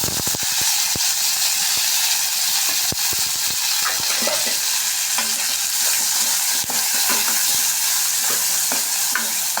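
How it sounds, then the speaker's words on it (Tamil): Urad dal, cumin, curry leaves and garlic fry in oil in a pan for potato poriyal, giving a loud, steady sizzle with dense crackling pops and occasional sharp clicks throughout. "பாருங்கள் உளுந்தும் சீரகமும் நல்லா பொரிஞ்சு வருது இந்த நேரத்தில் நம்ம கருவேப்பிலையும் பூண்டையும் ஆட் பண்ணிக்கலாம்"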